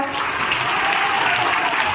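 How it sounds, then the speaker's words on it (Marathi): A crowd at a school food fair event applauds prize-winning children and their parents, giving dense, loud, sustained clapping that carries through the whole stretch. "जोरदार टाळ्या वाजवा एकदा"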